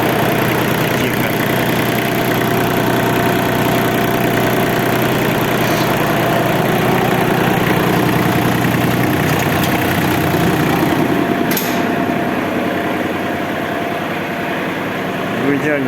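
A Japanese Kubota T22 mini tractor engine idles with a steady, even, close-up knocking chug, continuous throughout while someone talks over it.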